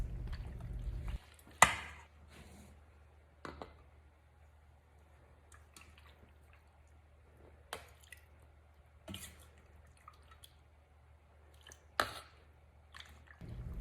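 Teriyaki chicken in marinade spooned into canning jars: a handful of separate wet plops and soft glassy clinks, close and quiet, with short pauses between scoops over a faint low hum.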